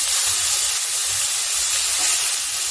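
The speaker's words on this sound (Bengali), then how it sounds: "আলুটাকে আমি ভালো করে ভেজে দিচ্ছি" Potato frying in hot oil in a pan with bay leaf and whole cumin, a steady loud hiss and sizzle throughout, with soft low thumps from pan handling underneath.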